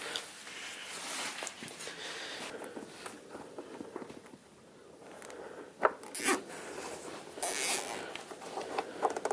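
A zip tie is ratcheted and pulled tight around wires in a car engine bay during an LS swap on a 240SX, with rasping zips and rustling handling noises close by, interrupted by a few sharp clacks.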